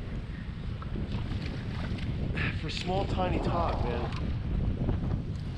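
Strong wind buffets the microphone on a small fishing boat out for tautog off New Jersey, a constant roaring rumble with someone talking over it.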